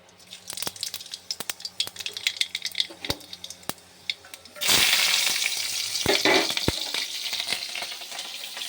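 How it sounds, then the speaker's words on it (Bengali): Black cumin seeds dropped into hot oil in a wok burst into a loud, steady sizzle midway, after scattered clinks and taps, and the frying hiss continues with crackles to the end. "এবার আমি কালো জিরে ফোড়ন দিয়ে দেবো।"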